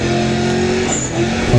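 Car drifting in Need for Speed ProStreet with a Toyota, a loud steady engine drone mixed with tire squeal and hiss, rising slightly at the end, with no talk.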